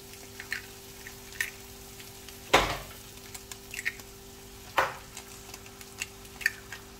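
Butter and eggs in a frying pan, soft sizzling under clicks of a utensil and two louder scrapes or thumps against the pan, close and quiet, with no speech.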